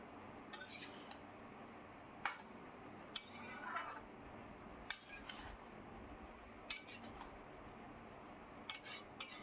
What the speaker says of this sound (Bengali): বেশ খানিকক্ষণ নাড়িয়ে চাড়িয়ে নিতে হবে।